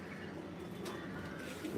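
Pigeons coo softly at a distance, a low, muffled murmuring under steady outdoor background noise.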